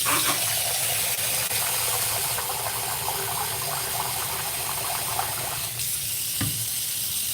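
Food grains washed in water in a kitchen sink, a steady loud rush of running and sloshing water that continues throughout, with a slight shift near the end.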